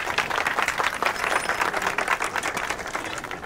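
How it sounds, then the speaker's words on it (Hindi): An audience bursts into sustained applause in a hall, dense rapid clapping from many hands holding steady and loud throughout with no talk over it. "ताली ताली।"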